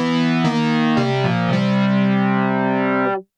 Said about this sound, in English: Let's start with the chorus. It has three modes with different intensities.